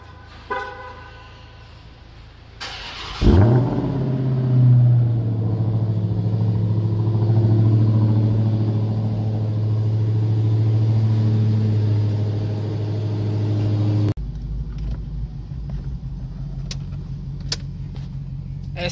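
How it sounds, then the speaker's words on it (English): Car engine cold-starting after sitting for two weeks: a quiet interior with a short beep, then the starter catches and the engine flares up before settling into a steady, close, loud idle that cuts off abruptly. "let's get this cold start though. 2 weeks cold start."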